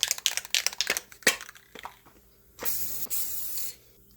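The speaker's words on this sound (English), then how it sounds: "I'm going to be putting on this Rust-Oleum clear lacquer you see right here" Rust-Oleum clear lacquer is sprayed from an aerosol can onto a leather hammer handle, with a few rattling shakes and clicks first, then two sustained close hisses of spray separated by a brief pause.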